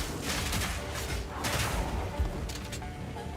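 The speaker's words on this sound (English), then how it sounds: "There's the fire explosions." Fire explosions from Path of Exile 2 gameplay, several dull booming bursts and thuds over a dense rumbling combat background, fairly loud, with no voices.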